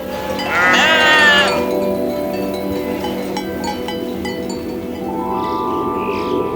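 A flock of ewes bleats loudly on a high mountain pasture along a shepherds' transhumance route, overlapping wavering cries strongest early on, then fainter scattered bleats over steady outdoor background.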